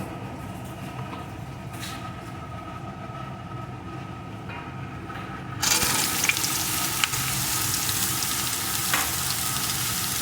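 Chopped bottle gourd stir-fried with tempering spices in hot oil, a steady broadband sizzle that jumps louder midway as the gourd goes in, with faint scraping stirs throughout and no talking.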